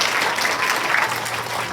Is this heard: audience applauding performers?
yes